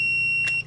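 A Hioki DT4252 multimeter gives a steady, clear continuity beep as its test leads are shorted together. The tone holds for about half a second, then cuts off sharply, with a brief click near the end.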